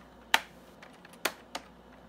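Keys clacking on a Compaq Deskpro 286 computer keyboard: three sharp, isolated keystrokes spaced unevenly, close and fairly loud against a quiet room hum.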